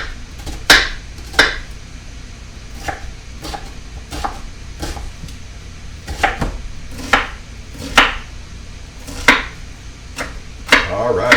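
A knife chopping an organic onion on a cutting board, about a dozen sharp, distinct knocks at irregular intervals, close and fairly loud, with quiet room noise between strikes and no talk.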